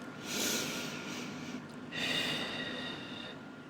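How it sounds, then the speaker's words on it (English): Two slow, deep inhalations drawn in through the nose, soft and close in a quiet room, each a breathy rushing hiss lasting about a second and a half. "Let's take a few deep breaths together like this."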